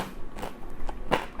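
Biting into crispy air-fried lechon kawali pork skin, a few short close crunches with one loud crackling bite near the end.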